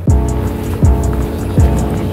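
A 2200 HP turbocharged truck racing at an ice drag event, a loud roaring engine with repeating pulsing surges, close and powerful, with no talk.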